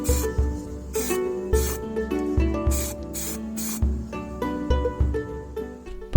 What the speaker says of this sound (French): J'utilise de la bombe en spray, soit blanc, soit rouge, et je le fais à l'intérieur